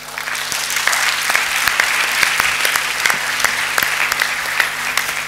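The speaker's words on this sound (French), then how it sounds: "Acclamons notre roi." Steady, loud applause from a church congregation during a Sunday service, a dense continuous clapping that holds evenly for several seconds with no voices over it.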